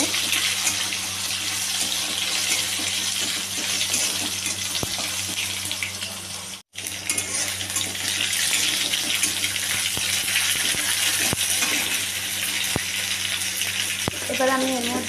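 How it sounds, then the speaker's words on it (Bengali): Chopped tomatoes fry in a pan, giving a steady hissing sizzle that runs throughout with a brief dropout midway and occasional soft clicks. "এই যে টমেটোগুলো দিয়ে দিলাম। এটাকেও একটু ভেজে নেব।"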